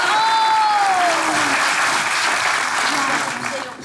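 Studio audience applause on a Turkish comedy stage show, a dense, steady wash of clapping filling the whole stretch and tapering slightly at the end, with faint whistle-like tones early on.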